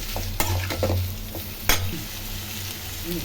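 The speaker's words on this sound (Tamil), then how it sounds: "இப்போ வெங்காயம் நல்லா வதங்கிடுச்சு" Onions and green chilies sautéing in a pan, an even sizzle broken by several sharp scrapes and taps of a spatula stirring, close and without speech.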